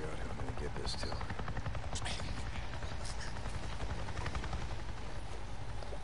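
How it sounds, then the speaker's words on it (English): Helicopter in the video game Days Gone, heard as a steady, heavy rotor throb and rumble running the whole time, fairly loud and close, with some sharp bursts mixed in. "That's a helicopter."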